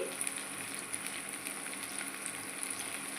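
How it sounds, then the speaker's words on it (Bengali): Potatoes, onions and green chillies fry in a pan with a soft, even crackle and faint spattering throughout, fairly quiet and with no one speaking. "এই যে আলু পেঁয়াজ দিয়ে ভাজছি"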